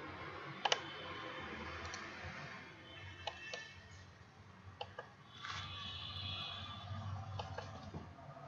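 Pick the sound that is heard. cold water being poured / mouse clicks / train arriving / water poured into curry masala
mouse clicks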